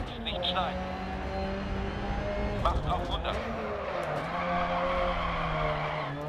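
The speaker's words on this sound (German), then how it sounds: "Schön quertreiben das Auto." A rally car slides sideways through a corner in DiRT Rally, its engine droning steadily with rising and falling pitch and a brief tire scrub mid-way, with a person talking over it.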